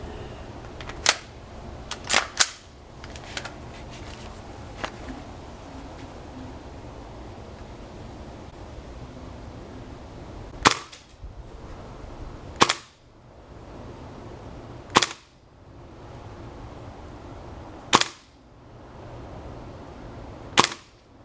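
A Polarstar gas blowback airsoft rifle fires about ten sharp, loud cracks: a quick cluster of shots early on, then single shots spaced several seconds apart over a quiet background.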